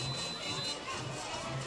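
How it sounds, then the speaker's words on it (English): Crowd noise at a Friday night high school football game at West Islip, a steady murmur of many voices in the stands with no distinct cheers, continuous and moderately distant. "Nice sized crowd here at West Islip on a Friday night."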